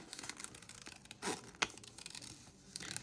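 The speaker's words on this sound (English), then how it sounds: "So you're just twisting your paper around the scissors." Paper being fussy cut with scissors, turned around the blades in small crinkly snips and rustles, faint and close with no talk.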